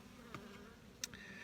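Bees buzz at a beehive box, a faint steady hum with a few louder individual bees passing close by.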